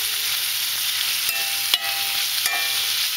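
A second batch of bacon sizzles steadily in a frying pan, a constant close crackle broken by a few sharp pops, with no one speaking.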